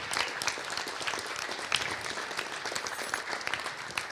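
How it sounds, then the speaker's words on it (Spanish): Church congregation applauding after being asked to stand, a dense steady wash of many hands clapping at moderate distance, sustained throughout with no talking. "Damos un aplauso al Señor por la vida de Cristi."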